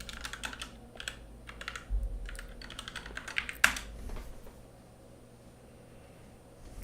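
Fingers type code on a computer keyboard during a Python WebGPU live-coding session, a quick run of close, crisp key clicks with one heavier thump before the tapping stops and the room falls quiet.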